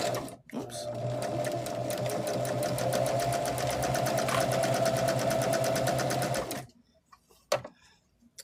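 Sewing machine chain piecing rows of a disappearing nine patch quilt table topper, running steadily at fast rhythmic stitching for about six seconds before stopping, followed by a few faint handling clicks.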